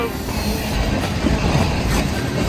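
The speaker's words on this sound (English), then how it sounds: "So in just a second, you should be seeing another locomotive." A CSX freight train with a mid-train distributed power locomotive rolls past close by, a steady loud rumble of wheels and cars with rail clatter throughout.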